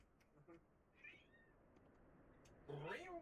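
A domestic cat meows a few times indoors, with a longer, louder meow near the end over faint room noise.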